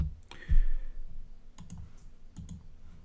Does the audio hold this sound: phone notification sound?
no